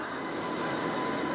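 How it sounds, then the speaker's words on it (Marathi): A passenger train arrives at a station, a broad steady rumble and roar that holds at an even level throughout, with no talking. "आता ट्रेन आलेली आहे आमची"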